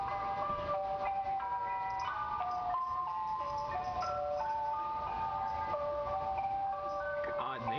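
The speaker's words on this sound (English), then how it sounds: "my neighbors have started to complain about the ice cream truck I drive on weekends." Ice cream truck jingle plays continuously as a bright repeating melody of chiming notes, loud and steady, driven on weekends through a neighborhood.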